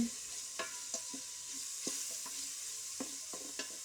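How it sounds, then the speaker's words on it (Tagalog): Onion and garlic sautéing in a pot, with a steady soft sizzle and a few light clinks and scrapes from stirring at irregular intervals, fairly quiet and close. "igisa na natin ang ating sibuyas at saka bawang"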